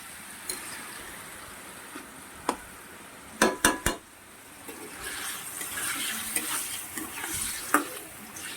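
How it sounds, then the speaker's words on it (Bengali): Paneer fries in hot oil in a wok, a soft sizzle punctuated by a quick cluster of clattering stirring knocks, after which the frying hiss swells and stays steady. "কড়াইয়ে তেল অলরেডি তেতে গেছে দেখো পনির ভেজে নেব"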